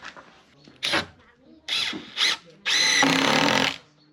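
A power drill drives screws into the tops of scrap-wood A-frames for picnic benches on a Portuguese farm, with several short whirring bursts followed by a longer, loud run, close by and alone.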